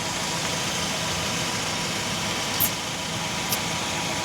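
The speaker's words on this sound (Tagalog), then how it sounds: "yung ating biniling compressor" A portable tire compressor runs as a steady, close mechanical drone with a constant buzzing hum, with two brief clicks near the end.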